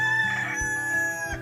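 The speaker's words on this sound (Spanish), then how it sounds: "Ayudado por el canto del gallo" A rooster crows a single drawn-out call, clear and fairly close, under a steady background tone as part of a narrated Easter children's story.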